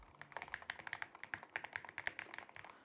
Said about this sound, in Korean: 저는 평소 키보드 타이핑을 할 때 손에 힘을 많이 줘서 좀 치는 편이거든요.